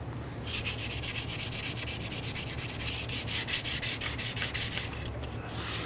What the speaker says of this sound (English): I'm going to use some 400 grit sandpaper just to try and clean this up a little bit.